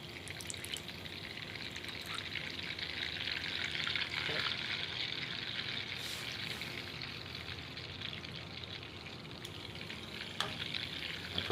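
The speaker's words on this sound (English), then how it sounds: "you do need to put a little bit of water in here" Water poured into a hollandaise sauce mix in a kitchen, a continuous soft trickle and splash lasting several seconds with faint clinks and background room noise.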